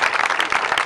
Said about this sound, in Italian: Un applauso, sì.